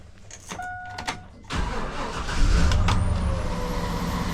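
A Chevy Silverado engine cranks and catches on a cold start, a few short bursts giving way to a loud steady idle that holds through to the end.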